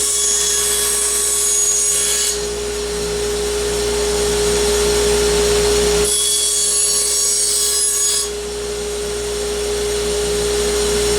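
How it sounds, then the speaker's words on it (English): Bandsaw running steadily while cutting wood, a loud continuous whine and rasp with a constant motor hum, the higher cutting tone dropping in and out as the blade passes through the piece. "making a pretty straight cut on the bandsaw"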